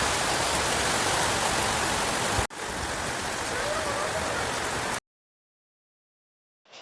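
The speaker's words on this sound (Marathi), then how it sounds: "लगेच दुपार झाली की पावसाचं आगमन झालं." Steady heavy rain pours in a dense, even hiss for about five seconds, broken by a brief cut, before it drops to silence.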